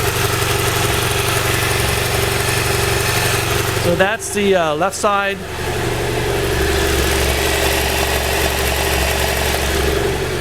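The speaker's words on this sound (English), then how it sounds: "I'm going to hold the microphone down at the engine so you can hear" A 2012 BMW F650GS motorcycle engine idles steadily close up, a low even rumble, briefly interrupted by a short spoken remark partway through.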